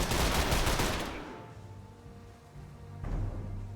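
A burst of rapid gunfire from The Lamplighters League turn-based game, loud and dense for about a second, then fading. A second shot thumps in near the end.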